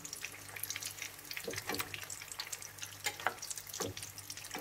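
Homemade Chinese spring rolls frying in hot oil, a soft steady crackle and sizzle with occasional clinks and splashes as they are turned, fairly quiet and without talking.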